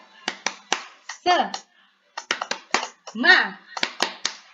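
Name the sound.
children doing the rhythmic 'tepuk semangat' clap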